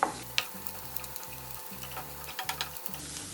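Grated coconut roasting in a pan for Pesaha appam, a soft, steady crackle running close throughout with a few brighter ticks and scrapes from stirring, and a faint low hum underneath.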